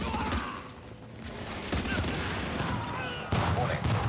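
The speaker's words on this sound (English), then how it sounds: "Oh, some shooting." Video game gunfire from a rifle firing 5.56 ammunition crackles in bursts of rapid shots, some loud and close, over steady battle noise and a speaking voice.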